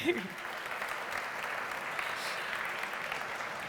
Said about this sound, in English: I think a round of applause as well for Anna.